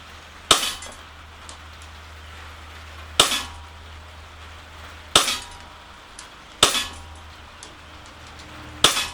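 An Umarex Smith & Wesson M&P40 CO2 blowback BB pistol fires five sharp, loud cracking shots at uneven intervals of about two seconds, each with a short metallic ring, against a quiet outdoor background.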